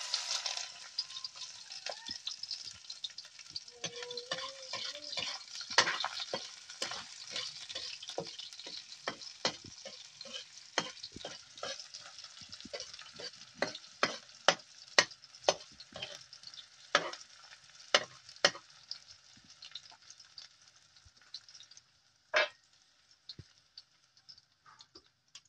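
Garlic and onion sautéing in a pan for chicken ginataan, a soft, quiet sizzle with many small ticking pops and spatula scrapes scattered throughout.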